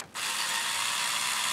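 Screws are backed out of the aluminum bracket on an Amiga 3000 power supply, a close, steady whirring ratchet-like grind that kicks in after a brief quiet start and holds evenly to the end.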